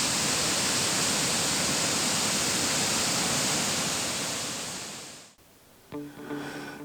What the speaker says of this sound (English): The water thunders off several cliffs and finds its way between bushes and trees.